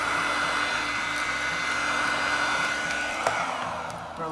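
A heat gun blows hot air over vinyl wrap on a Breville Dual Boiler espresso machine, a steady close whooshing roar that holds for several seconds before easing slightly.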